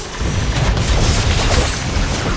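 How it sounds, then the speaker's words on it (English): A turret blowing up in a video game: one dense, rumbling boom that swells and holds for about two seconds, loud and close, with no talking. "Our turret has been destroyed."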